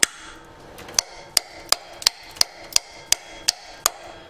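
About ten sharp, evenly spaced metallic hammer taps knock ground clamps back on an LS truck engine during intake manifold removal, close and crisp with no voices.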